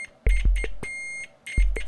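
A UNI-T UT33D multimeter on continuity setting gives short, loud, harsh electronic beeps in an irregular on-off pattern, including one longer sustained tone, close up with no talking.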